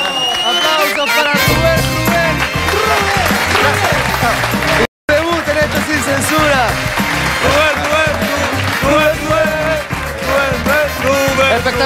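Loud, dense applause from a live comedy audience, sustained clapping and cheering that fills the room, with an announcer shouting over it.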